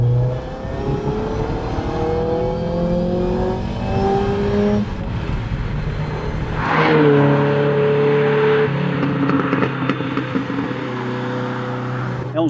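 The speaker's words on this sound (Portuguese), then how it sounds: "vamos só reduzir algumas marchas e acelerar de novo até o limite para ver como é. Então agora estamos em terceira marcha." A Ferrari 308 Vetroresina, downshifted and pushed hard in third gear, with the engine note climbing steadily to the limit. A sharp shift near the middle is followed by a renewed loud, rising rev, continuous and close.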